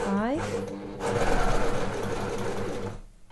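An overlocker stitches a sweatshirt side seam in a fast, close whirring run that starts after a brief pause and keeps up steadily, with a voice speaking briefly at the start.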